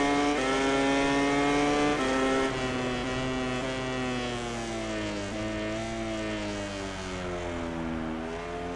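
A racing motorcycle engine in the MotoGP 20 video game holds a loud, steady high-revving whine, its pitch stepping down through gear changes as the rider brakes on the engine, with no voice over it.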